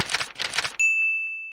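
A notification bell sound effect plays after a brief burst of noisy whooshes: a single bright, clear ding rings out and sustains, fading slowly, loud and alone.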